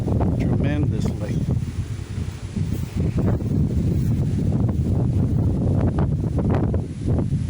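Strong wind gusts roar steadily across a backyard pole bean patch, a loud, continuous buffeting rush with rustling foliage throughout.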